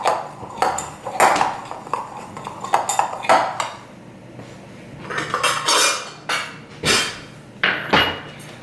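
Biscuit dry ingredients being stirred in a bowl, with repeated close clinks and scrapes of a utensil against the bowl in uneven bursts, no voices.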